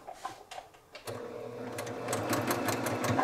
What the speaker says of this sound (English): I'm going to sew with the needle just inside of that seam line right there.